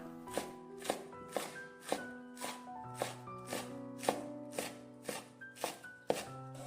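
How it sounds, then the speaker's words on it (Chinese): A knife chops a bunch of scallions into small pieces on a cutting board. It makes about a dozen crisp, evenly spaced thuds over soft background music, with no talking. "准备一把小葱，给它切成葱花。"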